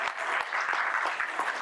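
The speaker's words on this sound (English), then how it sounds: "Let's give a big round of applause" Audience clapping for a computer vision lecturer at an AI school, a fairly faint, steady patter of many hands with a few distinct sharper claps.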